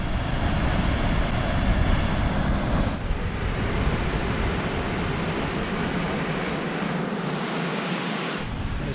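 The big waterfall at Fall Creek Falls roars in a steady, dense wash of falling water, loud and unbroken, heard up close with no talk.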